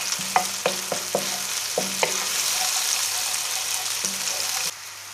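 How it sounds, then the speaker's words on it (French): Shrimp and garlic are sautéed quickly in a hot pan, giving a loud continuous sizzle broken by several sharp utensil clinks and taps, until the sizzling drops off abruptly near the end. "que je vais bien faire sauter assez rapidement"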